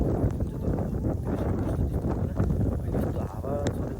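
Strong wind gusts during snowfall in Romania buffet the microphone of a delivery rider outdoors, a loud continuous low roar and rumble with no clear pauses.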